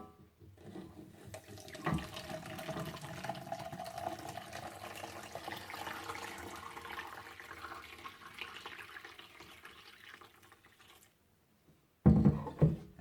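Homemade oat milk being strained, a steady broadband pour and trickle of liquid running for about ten seconds, fairly close, then a brief pause and a louder burst of splashing near the end, with no talking.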